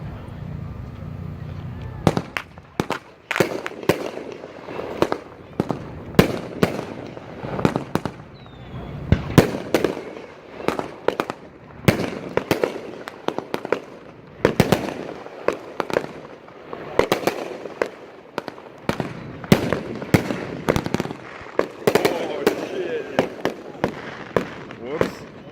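Consumer fireworks set off one after another at a 2019 product demo, with many sharp bangs and crackling bursts over twenty-odd seconds as people talk between them.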